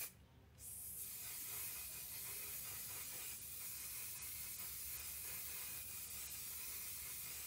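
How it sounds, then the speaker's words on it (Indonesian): Makeup setting spray gives a quick short hiss of a mist at the very start, followed by a steady, quiet background hiss with no talking. "kita harus semprot setting spray"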